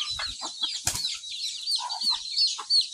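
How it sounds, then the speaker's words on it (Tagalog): A flock of native farm chickens clucks and peeps nearby, with a brief thump or flutter of wings partway through. "Mga native chicken mga idol."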